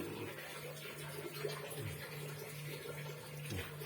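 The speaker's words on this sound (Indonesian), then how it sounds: "ini harus kita kasih air. Ya, air kita isi sesuai cukupnya" Water runs continuously into a cooking pot being filled before boiling red fruit, a soft steady rushing stream at low volume with no pauses.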